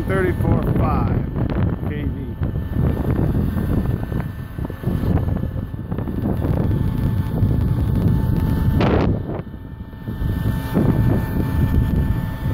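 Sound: wind

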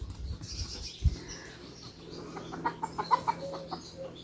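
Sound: chickens

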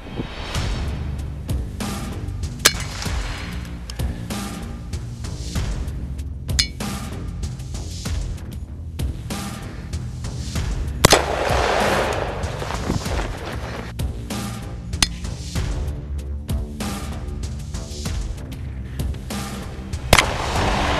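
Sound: gunshots hitting AR500 steel armor plate

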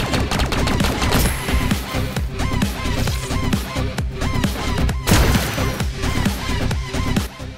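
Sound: plasma pistol firing in Halo Infinite video game

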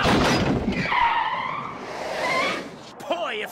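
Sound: cartoon car tires skidding, Who Framed Roger Rabbit DVD menu

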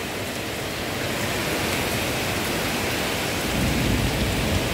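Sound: rain

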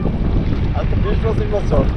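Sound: boat on the Dakatia river

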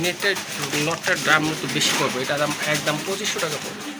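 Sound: pigeons cooing

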